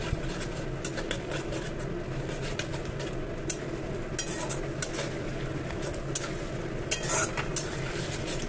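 Common stingray fish curry masala with tomato is sautéed in a pan with splashes of hot water, giving a dense, continuous sizzle and bubbling under repeated close stirring scrapes and occasional clinks of the utensil.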